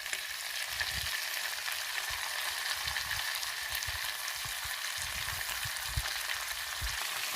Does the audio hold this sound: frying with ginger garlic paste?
yes